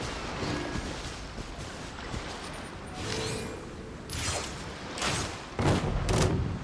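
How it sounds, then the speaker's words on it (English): Explosions in the video game Genshin Impact come as several muffled booming bursts over a low rumbling background, growing stronger toward the end. "The explosion was roughly the size I expected"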